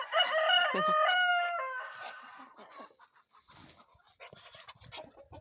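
A rooster crows in a farmyard, a loud, drawn-out call lasting about two seconds, followed by softer scattered clucks and chatter from poultry nearby.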